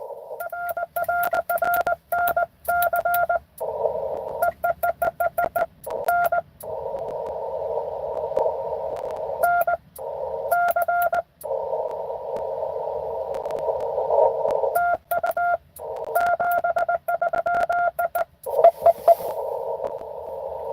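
Morse code is sent over an amateur radio from a portable outdoor station using a bug, a semi-automatic key. Clear, loud tone keying alternates rapid strings of short dits with long held dashes, continuing steadily for about twenty seconds.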